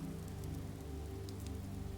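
Light rain falls steadily on leaves on a dreary day, a soft continuous patter with fine scattered drops, close and even throughout with no voices.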